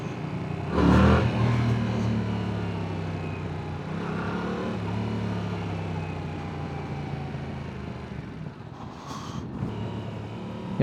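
Vehicles pass along a rural village road while heard from a moving motorcycle, engine and traffic noise rising and falling with a couple of louder swells as others go by, all under continuous wind and road rumble.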